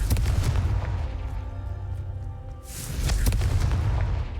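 A Confringo blasting spell in the Hogwarts Legacy video game goes off with deep booming explosions, a heavy blast that decays into a rumbling tail, then another loud burst with crackling debris.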